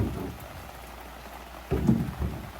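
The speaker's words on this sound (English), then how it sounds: "Yeah, shut down, pouring rain." Pouring rain after an ice storm, a soft steady patter heard from a distance, broken by a few louder low thumps near the end.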